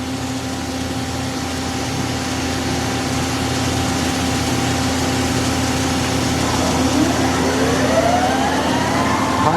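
A Mori Seiki SL-75MC CNC lathe with C-axis shifts into high gear, giving a steady mechanical hum with a faint whine that rises in pitch toward the end, with no one speaking.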